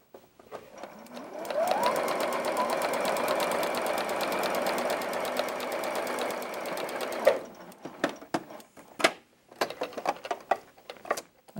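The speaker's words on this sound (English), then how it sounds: "lay my fabric down under that needle, and finish sewing to the outside" A sewing machine stitches a Y seam across a quilt block in one continuous, rapid run of needle strokes for several seconds, then stops, followed by scattered clicks and small handling noises.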